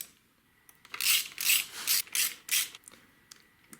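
Short scraping, ratcheting strokes come from a screwdriver reinstalling small screws on a Magura HYMEC hydraulic clutch lever on a 2021 Yamaha YZ250FX. There are about six quick close rasps in a row in an otherwise quiet space, with no talk.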